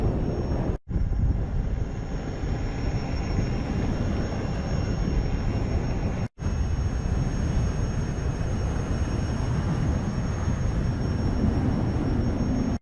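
Strong headwind buffets the microphone while riding on Oil Well Road, a constant loud broadband roar with two brief dropouts and no speech.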